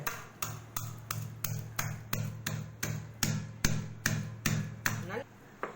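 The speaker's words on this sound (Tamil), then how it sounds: "இந்த மாதிரி கல்லூரில் எடுத்துக்கிட்டு ஒரு ஒரு நாலஞ்சு வெங்காயமாக போட்டு நச்சு நச்சு தட்டுங்க" Onions are pounded in a stone mortar, giving a steady series of sharp, close knocks about two per second, each with a short ringing tail, over a low background hum.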